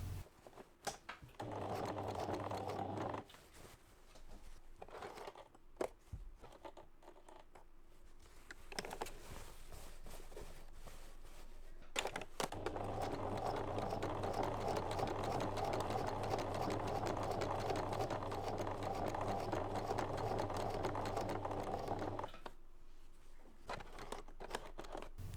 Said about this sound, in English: I'm going to do that now and backstitch over those first few stitches so that I secure the thread.